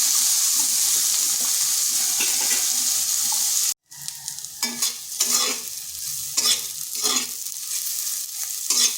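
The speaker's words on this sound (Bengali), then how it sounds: "করলাটা একটু সময় ধরে ভেজে নিতে হবে।" Oil sizzles steadily in a pan as bitter gourd fries, then after a brief cut the frying continues with scraping and stirring clatter from a utensil moving the pieces.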